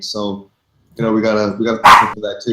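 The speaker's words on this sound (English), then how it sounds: "excuse my dogs" Dogs bark and yip in the background during a live discussion stream, with short barks heard alongside and between a man's close speech.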